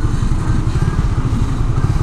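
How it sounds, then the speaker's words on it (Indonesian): A Suzuki Satria F150 FI Black Predator fuel-injected motorcycle engine runs close by, a loud, steady, throbbing idle with a rapid even pulse and faint mechanical clatter, no voices. "Motor gue Satria FU injeksi."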